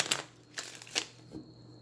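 Tarot cards are shuffled in a few quick riffling bursts, close and soft, with short pauses between them.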